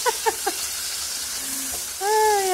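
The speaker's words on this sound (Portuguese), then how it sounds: "Eu tô fritando bacon" Bacon frying in oil gives off a steady sizzle, broken by three sharp pops near the start and a louder burst of spattering toward the end.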